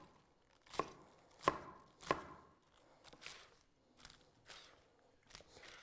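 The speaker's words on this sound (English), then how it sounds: "then I would chop them up like this and then toss them in a strainer" A knife chops romaine lettuce for a Caesar salad on a cutting board, about eight distinct crisp cuts at an uneven, unhurried pace, the first three sharpest and the later ones softer, close and alone.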